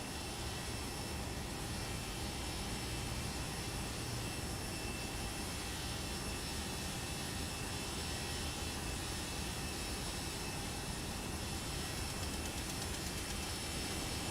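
FSLabs A320 jet engines in the Prepar3D flight simulator produce a steady broadband roar with a faint high whine, running at constant level throughout with no talking.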